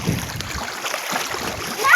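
Feet wading through floodwater in a waterlogged banana field, with a brief churning slosh and splash close by, fairly loud over a steady wet background.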